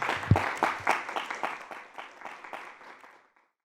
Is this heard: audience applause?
yes